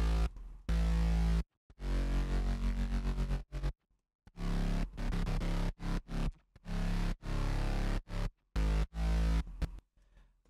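Future trap synth bass made in Serum rumbles through in heavy, distorted, chopped bursts with abrupt silent gaps and stuttering rhythmic cuts, loud and upfront with no voice.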